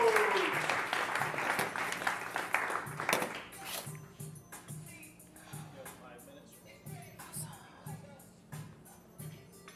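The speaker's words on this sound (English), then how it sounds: "A big round of applause for Laila's second set of cappuccinos." Audience applause in a coffee tasting event, loud and dense at first with talk over it, then thinning to scattered claps for the rest of the stretch.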